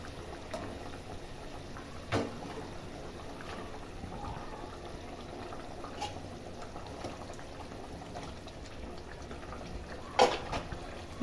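Fish curry broth bubbling at a boil in a pot, a quiet steady simmer with a few sharp clinks or taps of utensils against the pot, close by and without talk.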